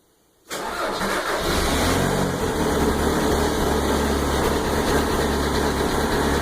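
A diesel car, entered in a 2015 cold start contest, cranks briefly and catches after a moment of silence, then settles into a loud, steady idle that holds close and alone to the end.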